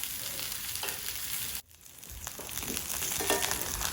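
Tuna pieces sear in a hot frying pan, giving a steady, close, broadband sizzle that cuts out briefly partway through, then resumes and swells slightly.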